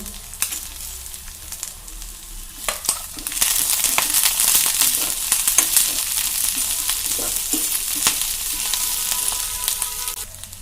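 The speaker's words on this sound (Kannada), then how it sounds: "ಕಾಳು ಹಾಕ್ತೀನಿ ಕರ್ಮೇವು ಹಾಕ್ತೇನೆ ಈರುಳ್ಳಿ ಹಾಕ್ತೀನಿ ಅಷ್ಟು ಎಲ್ಲ ಒಮ್ಮೆ ಹಾಕ್ತೀನಿ ಹಾಕಿ ಚಲೋ ತಂಗಿ ಹುರಿತೀನಿ" Lentils, curry leaves and onion frying together in hot oil for ridge gourd chutney, a steady close sizzle with crackles and scraping stirring strokes that swells louder midway and keeps going to the end.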